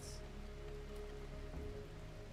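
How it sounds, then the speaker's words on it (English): Rain falling in the video game RimWorld, a steady, soft patter with a faint low hum beneath, quiet and even throughout. "the good thing is it's raining right now, so the whole fire setting is not too terrible"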